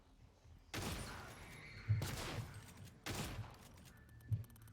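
Shotgun blasts in a first-person video game, three loud booming shots spaced about a second apart, each with a short decaying tail, a faint click or two between them.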